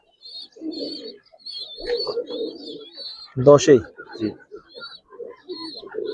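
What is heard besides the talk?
Giribaz pigeons cooing in a loft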